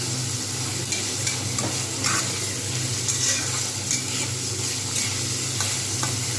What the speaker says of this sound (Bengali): সুন্দরভাবে নেড়ে নিতে হবে